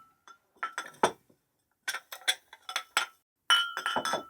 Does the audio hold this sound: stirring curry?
no